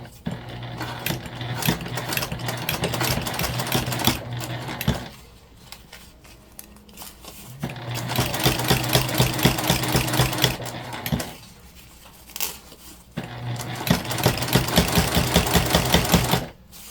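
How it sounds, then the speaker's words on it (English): A sewing machine top stitches down the side of a fabric lunch bag in three loud, steady runs of rapid needle clatter, separated by short pauses as the fabric is adjusted. "we're just gonna top stitch all the way down"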